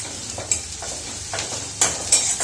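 Grated ginger fries in a pan with a soft, steady sizzle, punctuated by sharp metallic clinks and scrapes of stirring, close up and without speech.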